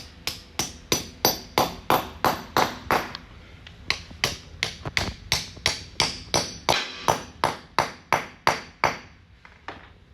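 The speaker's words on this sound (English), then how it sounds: "We'll hammer in." Anchors are hammered into holes in a floor to bolt down a network data rack, giving a steady run of about twenty-five sharp metal strikes, loud and close, at a brisk even rhythm with no talk.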